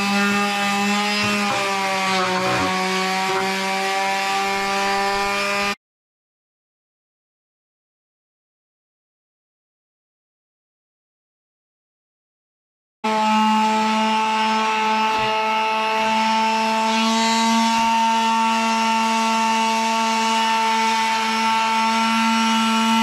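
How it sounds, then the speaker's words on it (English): Sanding varnished wood after a first coat, a steady abrasive rubbing hum with a whining tone, running continuously for several seconds, stopping in a silent gap, then resuming, no talking. "this second sanding after the first varnish"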